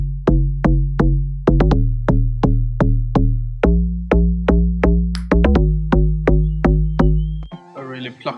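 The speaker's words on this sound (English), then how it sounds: "A really plucky bass sound." A plucky synth bass built on an FM3 wavetable in Serum plays a quick, bouncy run of short decaying notes in a steady rhythm, loud and alone, followed by a brief burst of other sounds at the end.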